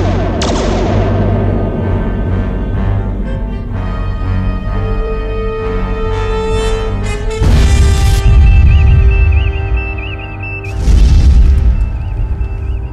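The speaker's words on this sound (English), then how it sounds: "Photon torpedoes, broadest possible spread. At this range, the blast will impact us as well." Photon torpedo blasts from a Star Trek battle scene, a sustained roaring boom with heavy low rumble swelling in waves, plus a sharper burst around the middle and another near the end, loud over dramatic orchestral music.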